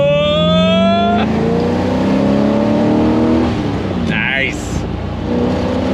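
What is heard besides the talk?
1970 Chevrolet Corvette Stingray 454 engine at hot throttle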